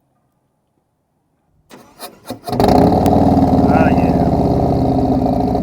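After silence, a 2023 Harley-Davidson Street Glide Special motorcycle with aftermarket performance parts cranks in a few stuttering bursts, then fires into a loud, steady, loping idle close by, with a brief spoken exclamation over it.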